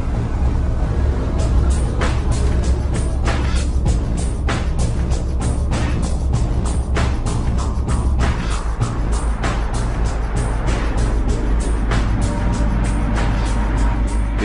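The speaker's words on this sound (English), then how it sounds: "Refrigerated Volvo lorry is carrying an everyday load, 9 tons of margarine and 12 tons of flour" Refrigerated Volvo lorry carrying 9 tons of margarine and 12 tons of flour, driven at about 60 km/h into a road tunnel, gives a steady, loud low engine and road roar throughout, with repeated short clicks and ticks over the drone.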